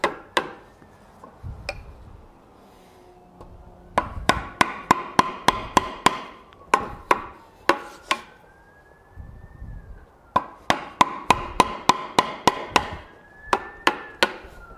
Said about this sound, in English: I like just using the chisel because I feel that it's a very quick way to remove this material.